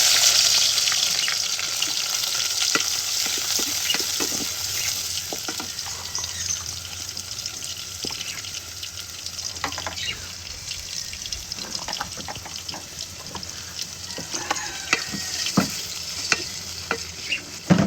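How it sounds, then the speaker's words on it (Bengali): Onion, garlic and green chillies fry in hot oil with a steady, bright sizzle, and a spoon scrapes and taps the pan now and then. "এগুলো একটু ভেজে নিব কিছুক্ষণ"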